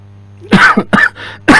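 A woman calling in to a radio show by phone coughs in about four short, harsh bursts in quick succession, loud and close, with no talk over them.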